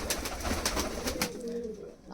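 Kalduma pigeons coo in low, rolling murmurs, several birds close by in a loft, with a few soft flutters and rustles around them.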